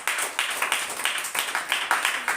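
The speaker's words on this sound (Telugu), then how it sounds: "చప్పట్లు కొట్టు." A church congregation claps in unison at a Sunday service, giving a steady rhythmic beat of about four to five claps per second that holds evenly from start to finish.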